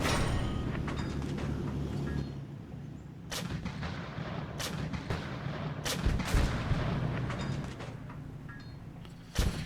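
Video game gunfire with heavy booming shots and several sharp, loud bangs standing out from a dense rumbling battle backdrop, no talking.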